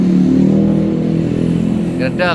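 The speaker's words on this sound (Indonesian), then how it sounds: "Oke, itu alasan buat mesin Ninja itu berisik." Kawasaki Ninja two-stroke motorcycle engine with worn bearing clearance, running steadily and noisily close by with a rough, buzzing drone, before a brief voice cuts in near the end.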